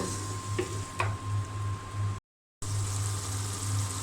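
A paste of ginger, cumin and garlic with ground spices, salt and garam masala fries in a pan, giving a steady low sizzle with a couple of soft stirring scrapes and a brief dropout midway.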